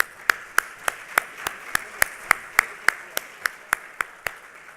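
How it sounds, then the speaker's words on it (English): An audience at a brownfields panel session gives a round of applause, heard as a sparse series of distinct, evenly spaced claps that ring out crisply over a quiet room. "Let's give him another round of applause"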